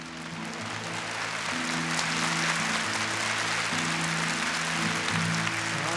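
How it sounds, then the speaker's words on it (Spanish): An audience gives sustained applause for Los Huasos Quincheros at a tribute, a steady wash of many hands clapping at moderate distance over a low, constant hum. "Brindémosles la confianza y el aplauso a los guasos quincheros."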